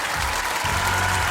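A television talent-show studio audience breaks into steady, loud applause, a dense wash of clapping that swells slightly after a brief dip and continues without voices on top.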